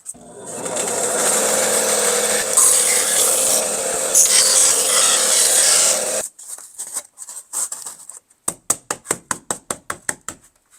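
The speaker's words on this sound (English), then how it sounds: "Now we've got a shape to cut out on the bandsaw." A bandsaw cuts a traced shape out of foam for an HO scale model railway layout, a loud continuous buzzing whir for about six seconds, then quiet with a run of sharp rhythmic knocks.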